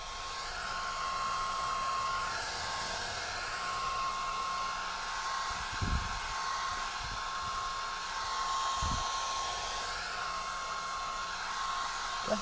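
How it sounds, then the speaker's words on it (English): A hair dryer blows continuously with a steady whooshing hum, close by, with a couple of faint low thumps underneath. "pick up that blow dryer and blow your face dry now"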